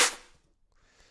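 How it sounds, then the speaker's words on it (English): A two-hit clap drum sample in Logic Pro: a loud bright crack that fades, followed by a softer second smack under a second later, close and isolated. "this one kind of had like a 2-hit clap."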